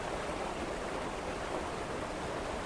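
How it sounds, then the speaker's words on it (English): Steady, close rush of flowing river water in the video game Rosewater, a constant broadband wash with no voices and no breaks. "Sound of the river drowned it out, I guess."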